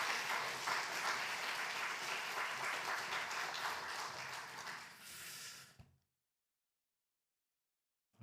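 Warm applause from a church congregation at a book publication thanksgiving service for author Pastor Kim Jun-il, a steady dense clapping for about six seconds that ends abruptly, followed by silence.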